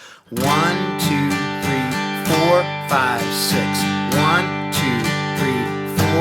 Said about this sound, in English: A second strum pattern that you can use is down, down, up, down, up, down